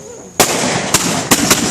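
July 4th fireworks go off loud and close, a sharp first blast followed by three more cracking bangs in quick irregular succession over a roar of crackle.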